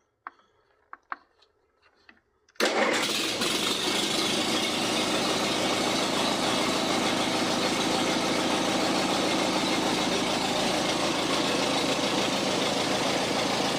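After a few faint clicks, an engine fires up abruptly and settles into a loud, steady run that continues to the end.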